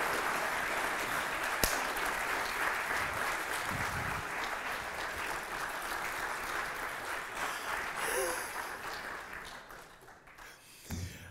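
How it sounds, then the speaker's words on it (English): Audience applause and cheering at a live talk on security and deception, a steady dense wash of clapping from a crowd that holds for several seconds, then thins and fades near the end with a few last claps. "Give him a round of applause."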